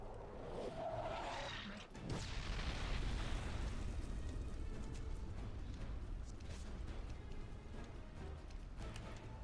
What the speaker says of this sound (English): It's gonna explode! Move away!